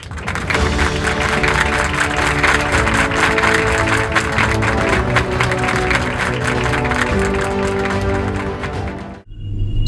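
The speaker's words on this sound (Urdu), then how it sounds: "اپنی بھرپور تالیوں میں استقبال کیجئے محمد علی" Audience applause welcoming a speaker at the grand finale of a Sindh declamation contest, loud dense clapping sustained for nearly ten seconds with an underlying tonal hum, then cutting off abruptly.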